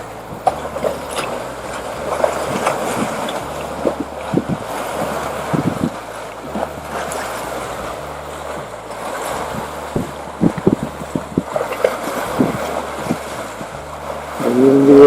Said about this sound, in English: I know we're going to get a lot of wind noise